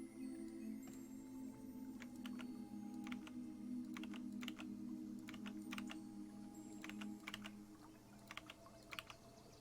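A computer keyboard clicks in scattered bursts of keystrokes over a steady low hum, quiet and close, with no talking.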